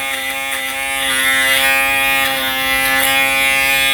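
An Aberlite Touch 2 electric head shaver buzzes loudly and close as it shaves under the nose, a steady motor drone with small rasping changes as the head moves across stubble.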